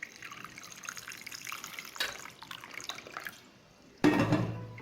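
Water trickles and splashes faintly as it is poured in while making jaljeera with lemon, ending in a louder, fuller pour near the close.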